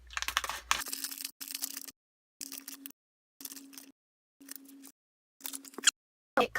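A Kracie Popin Cookin ramen kit packet is cut open with several short crinkling, snipping bursts separated by silent pauses. The sounds are close and fairly quiet, with no voices.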